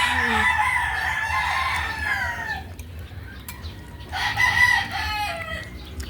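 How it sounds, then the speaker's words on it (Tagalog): Hens cluck continuously nearby while a rooster lets out a full crow, then crows again a moment later over the steady farmyard clucking. "Yung manok lang yung ingay."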